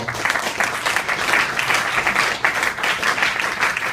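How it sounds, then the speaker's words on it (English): Loud, steady applause from a comedy club audience welcoming a stand-up comedian to the stage, dense clapping filling the whole stretch without a break. "let's give a big round of applause right now for Thomas Gill"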